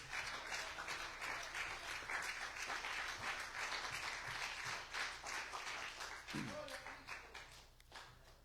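A church congregation claps continuously through the whole stretch at a fairly even level, with a voice speaking over the applause near the end.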